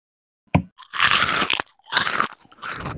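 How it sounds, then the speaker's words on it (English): Someone crunches Bugles corn snacks close to the microphone, a sharp bite followed by bursts of loud, crisp chewing with short pauses between them, and no talking. "Should I crunch too?"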